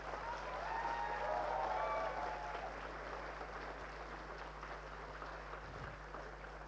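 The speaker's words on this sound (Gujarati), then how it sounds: "આપણા સૌ કોરોના વોરિયર્સ માટે એકવાર જોરદાર તાળીઓ થઈ જાય" Broad, steady applause rises from a large audience cheering Corona warriors, with some crowd murmur and a tonal hum running under it, loudest in the first two seconds before settling into a sustained clapping wash.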